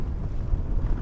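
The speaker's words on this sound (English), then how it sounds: "It just seems to be getting stronger and stronger, the wind" Strong storm wind buffets the microphone in a steady, low roar with gusty surges, loud and close throughout, with no voices.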